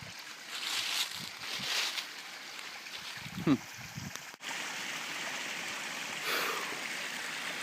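A mountain stream flows over rocks near a park summit trail, giving a steady, close rushing hiss throughout. Faint voices and a few brief knocks and rustles come through in the first half.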